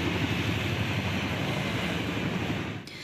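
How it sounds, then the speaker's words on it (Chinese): A Chinook transport helicopter carrying a large national flag flies over the Presidential Office during a National Day air rehearsal in Taipei, giving a steady, broad rumbling drone that cuts off abruptly near the end. "挂大型国旗的次努克运输直升机早起，搁再飞过总统府"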